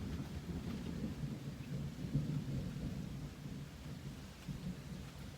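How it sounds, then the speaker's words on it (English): Thunder rumbles steadily through a steady downpour of rain during a jungle storm, a low continuous roll that swells and settles without any voices. "Hear the thunder? Listen."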